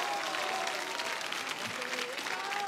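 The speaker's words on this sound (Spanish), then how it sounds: "¡Fuerte ese aplauso de todo el mundo!" Audience applause fills a televised tribute show, a steady wash of clapping and crowd noise with faint voices and tonal sounds mixed underneath.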